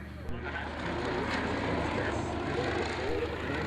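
Fairey Swordfish biplane flying its display at an airshow, a steady broadband propeller-engine drone holding at a moderate distance, with no breaks throughout.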